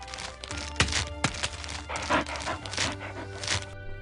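A dog in a Christmas TV commercial, covered in wrapping paper and wagging its tail, makes short thumps, crinkles and panting bursts amid a soft music bed, a few distinct hits and rustles over four seconds.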